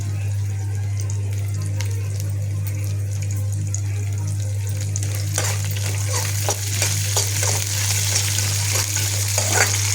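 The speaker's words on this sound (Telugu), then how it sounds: "మంచిగా అన్నీ నూనెలో వేయించి వేయించినాక" Curry leaves and other ingredients frying in hot oil for atukula upma, a steady sizzle with stirring scrapes that grow busier toward the end, under a constant low hum.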